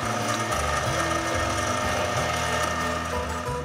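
A pasta machine rolling a sheet of lattice-patterned agnolotti dough, producing a steady loud mechanical whir with a fast rhythmic rattling churn running throughout.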